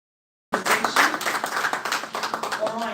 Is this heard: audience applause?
yes